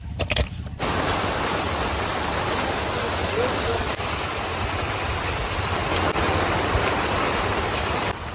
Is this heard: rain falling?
yes